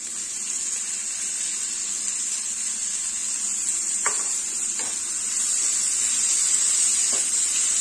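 Tomatoes and capsicum sautéing in a pan give a steady, even sizzle, with a few faint clicks of stirring against the pan and no voices.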